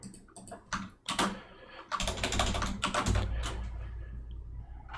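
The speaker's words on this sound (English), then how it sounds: "let me type it out one more time" Someone types a password on a computer keyboard to log in over SSH, producing bursts of quick, close key clicks, some sparse and others dense and rapid, with a low hum running under the typing.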